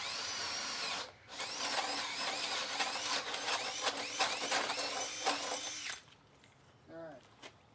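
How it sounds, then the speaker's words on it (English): A cordless drill whirs steadily into wood for several seconds, its pitch wavering under load, then stops; a brief mechanical whine follows near the end. "I'm gonna drill a hole right here."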